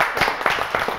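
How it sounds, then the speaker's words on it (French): A live audience claps for a singer in a brief burst of applause, several sharp hand claps quickly overlapping, close and fairly loud. "on l'applaudit quand même."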